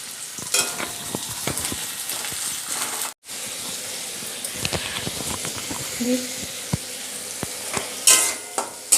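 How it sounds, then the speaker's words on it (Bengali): Onion frying in a pan for a bhorta recipe gives a continuous close sizzle with spattering crackles and stirring scrapes, briefly cut off near the middle. Someone speaks quietly partway through. "পেঁয়াজটা এখন ভেজে নিচ্ছি।"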